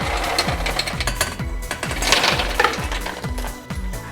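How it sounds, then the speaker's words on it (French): Roasted hazelnuts are stirred in sugar syrup heated to 118 degrees until the sugar turns sandy, giving a dense, rapid clatter and rattle of nuts scraping against the pan, loud and continuous with no talking. "Je vais continuer à mélanger pendant 5 à 10 minutes jusqu'à ce que le sucre caramélise"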